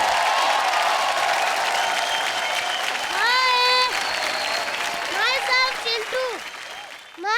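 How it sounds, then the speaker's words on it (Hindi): Studio audience on a Colors TV comedy show applauds loudly for the performers Chintu and Karan, steady clapping mixed with crowd noise and brief musical stings, fading near the end. "जोरदार तालियां हो जाएं चिंटू और करण के लिए"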